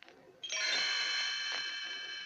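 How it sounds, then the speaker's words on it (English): Little bells ring as a chime cue, a bright shimmering ring that starts suddenly and sustains steadily, fairly near and alone. "You will know it is time to turn the page when Tinkerbell rings her little bells like this."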